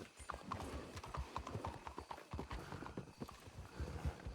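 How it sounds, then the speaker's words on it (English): A stray horse's hooves clip-clop in a steady, close rhythm, fairly quiet, with a faint voice in the background. "Stray horse, stray horse."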